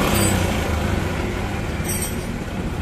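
A Yamaha Jupiter MX motorcycle engine runs close by during a charging-system check, giving a steady, loud mechanical drone with no clear rise or fall in pitch.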